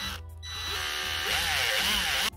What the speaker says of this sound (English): So once I drill it out